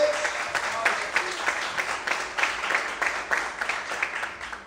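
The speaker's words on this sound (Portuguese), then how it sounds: "Você pode aplaudir a Deus?" Church congregation applauding during an evening worship service, a dense wash of many hands clapping steadily over about five seconds, moderately loud and fading slightly toward the end, with a faint voice underneath.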